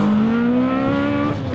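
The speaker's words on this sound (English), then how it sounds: "Braking hard as they turn in and then back onto the power" Rear-wheel drive rallycross cars in a BTRDA Clubmans championship round at Blyth, one engine note dropping under hard braking for a turn, then climbing loud and close as the throttle opens again, with a faint tire edge.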